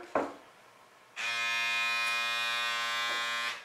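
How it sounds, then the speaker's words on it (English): A steady electric motor buzz from a wine vacuum pump drawing air out of a bottle starts abruptly after a brief click and runs evenly for a few seconds, close by, before cutting off. "it starts pumping all the air out so that there's less oxygen in there"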